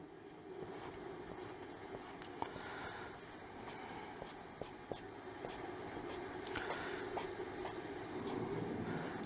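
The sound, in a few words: pen drawing strokes on paper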